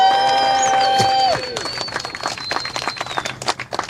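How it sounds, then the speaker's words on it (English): Crowd at a progressive rally claps and cheers, the applause starting just after a sustained tonal sound cuts off, then rolling on as a dense, irregular patter of many hands, loud and near. "Big round of applause."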